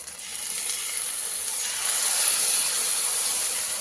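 Ground spice paste hitting a hot pan for a Bengali koi fish curry sizzles in a steady, loud hiss that swells slightly and holds throughout, with no voices.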